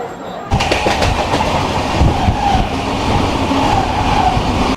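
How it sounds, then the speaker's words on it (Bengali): Train running at speed of about 110 km/h on the Kolkata to Tarapith route, heard from onboard as a loud steady rumble with rhythmic clickety-clack of wheels over rail joints. "আমাদের ট্রেন কিন্তু তার স্পিড নিয়ে নিচ্ছে 113-111 কিলোমিটারে চলছে"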